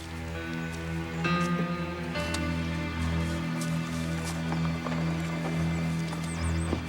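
Steady clip-clop of horse hooves in the Western series Bordertown under continuous background music, with occasional faint creaks and clinks.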